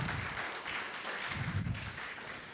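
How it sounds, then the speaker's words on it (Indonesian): A church congregation claps and applauds steadily during an online worship service, a dense, continuous, fairly faint patter with no voices on top. "Yang setuju berikan tepuk tangan meriah buat Tuhan kita."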